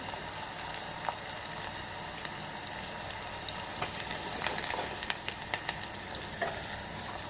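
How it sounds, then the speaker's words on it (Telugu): Onions and green chillies fry in hot oil for a tamarind rasam, giving a steady dense sizzle with scattered crackles and pops throughout, close and even, with no talking. "ఆనియన్ పచ్చిమిర్చి ఇట్లా నూనెలో వేసుకోవడం వల్ల"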